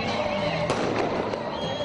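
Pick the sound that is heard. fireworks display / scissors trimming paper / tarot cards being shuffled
fireworks display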